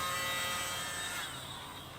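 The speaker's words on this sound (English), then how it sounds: "Okay, I got to get used to this hair dryer." A hair dryer blows steadily onto acrylic paint, a continuous airy whir holding level for about two seconds, fairly faint and with no talk.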